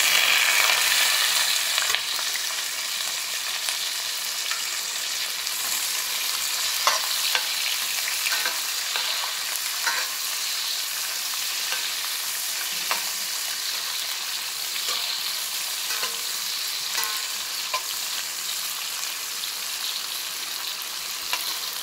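Chopped big onions and green chillies fry in oil in a kitchen pan, a steady bright sizzle running throughout with repeated scraping stir strokes, close and alone with no talk.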